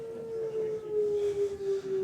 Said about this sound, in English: the air raid siren blows